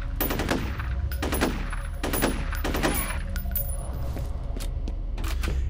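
A powerful weapon fired in the video game F.E.A.R.: four or five heavy, booming shots spaced about a second apart, each with a ringing tail, followed by fainter metallic clinks over a constant low rumble.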